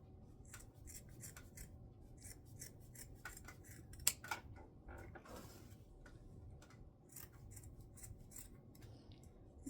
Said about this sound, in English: I still have a lot of extra bulk of this woven one, so I'm just going to trim these down a bit.